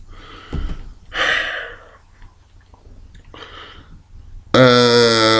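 A man takes deep, audible breaths, with several gasping inhales and exhales close to the mic during a wrestling talk show, and a short burst of his voice at the end.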